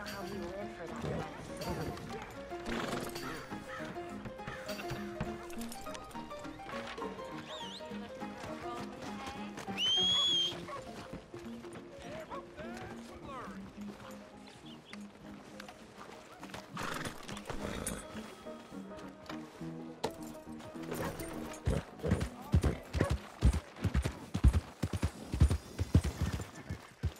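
Horse hooves clip-clopping in Red Dead Redemption 2, a steady walking rhythm under game music and character dialogue, with a whinny midway and heavier, quicker hoofbeats toward the end.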